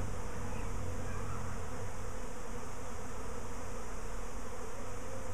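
A swarm of bees buzzes in a dense, continuous drone, steady and fairly close for the whole stretch, with no voices.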